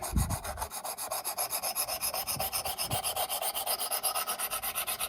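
Knife blade stroked steadily on a Work Sharp Precision Adjust fixed-angle sharpener stone to reset a badly damaged bevel, giving a close, continuous rhythmic rasping of about eight strokes per second with no talk.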